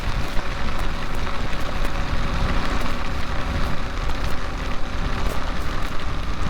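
Steady, dense rain on a motorcycle ride toward Kerala, a continuous loud broadband hiss with faint spatters and wind rumble, heard alone without talking.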